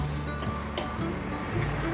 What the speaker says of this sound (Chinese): 准备一个不粘平底锅，锅内放入多一点的油，把蒸好的素鱼放进来煎